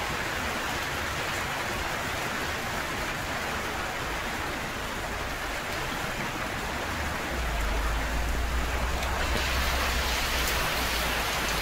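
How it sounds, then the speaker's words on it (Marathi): Steady rain falls outdoors in a continuous broadband hiss, growing slightly heavier and lower toward the end, with no voices over it. "कसा दिसतो पाऊस."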